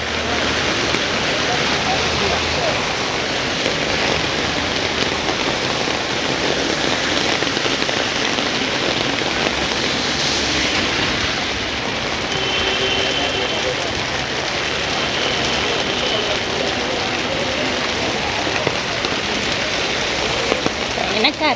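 Monsoon rain pouring in Mumbai, a dense continuous hiss of rainfall on surfaces for the whole stretch, fairly loud, with faint background sounds mixed in.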